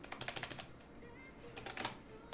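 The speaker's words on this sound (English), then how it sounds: "Why typing so hard?" Fast typing on a computer keyboard, close and quiet: bursts of rapid sharp key clicks, a brief pause, then another flurry of keystrokes with no voice.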